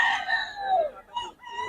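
A rooster crows loudly at a market in Bocaue, a long drawn-out call, followed by shorter clucks and calls from other chickens nearby.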